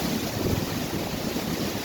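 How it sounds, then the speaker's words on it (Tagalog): Sea waves wash near a flooded shore during a typhoon, a constant broad roar of surf mixed with wind noise, loud and steady with no speech. "Ayun, dagat na yun."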